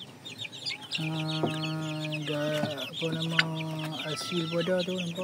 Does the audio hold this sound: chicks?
yes